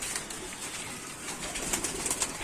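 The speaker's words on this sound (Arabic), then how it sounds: "الحمام ده يا رجاله" Pigeons coo in a steady low murmur, with light fluttering and small rustles near the end.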